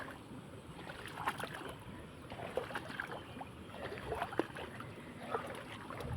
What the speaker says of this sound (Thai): น้ำไหล เสียงเป็นน้ำตกเลย